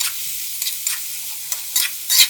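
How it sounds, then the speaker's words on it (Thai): Eggplant, minced pork, shrimp and basil leaves being stir-fried in a pan over high heat, a steady soft sizzle broken by several sharp scraping strokes of a spatula, the loudest near the end, with no talking. "ผัดสักครู่ให้ใบโหระพาสุกครับ"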